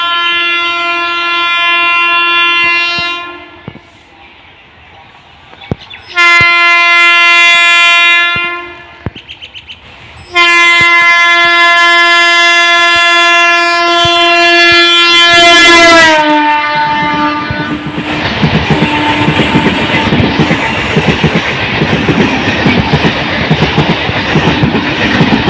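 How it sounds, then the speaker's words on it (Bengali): Bangaon–Shantipur local down train sounding a loud sustained horn in several long blasts, then passing close with a rushing, rattling wheel roar over the rails; no talk. "এটি হলো বনগাঁ শান্তিপুর লোকাল ডাউন"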